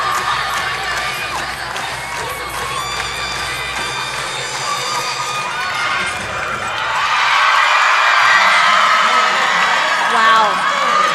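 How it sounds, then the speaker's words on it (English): Crowd and coaches cheering and shouting at a high school competitive cheerleading state final, a loud, dense wall of screams and whoops that swells louder toward the end, with voices talking over it. "You can hear the coaches, the crowd going crazy"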